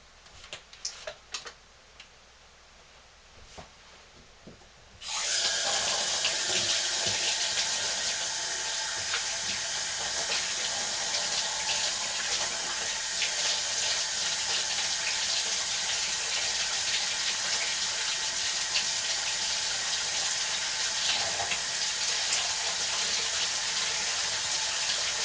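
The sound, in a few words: hot water running from a tap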